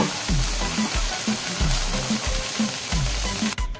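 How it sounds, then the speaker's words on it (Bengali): Boiled green and yellow peas frying in a pan for a cheesy peas dish, giving a steady close sizzle with repeated scraping and stirring strokes. "একটু হালকা করে আমি ভাজা ভাজা করে নেব"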